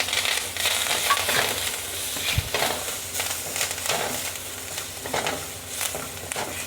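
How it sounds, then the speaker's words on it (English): Curry leaves dropped into hot oil crackle and sizzle steadily in a pan, with sharp popping bursts and stirring scrapes over several seconds, close and moderately quiet, no voices. "I am going to add the curry leaves in this same oil."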